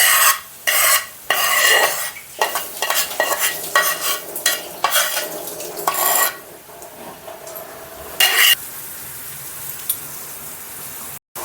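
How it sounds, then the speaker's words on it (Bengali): A spoon scrapes and stirs butter in a hot wok as it cooks down into ghee, giving close, rhythmic rasping strokes over a soft sizzle, with a few short pauses between the strokes. "অল্প অল্প একটু নাড়াবো।"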